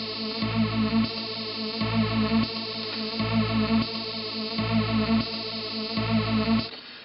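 A distorted, buzzy synth tone through an EMU Peak/Shelf Morph Filter pulses in a steady repeating pattern, its timbre jumping abruptly between two filter frames every half second or so.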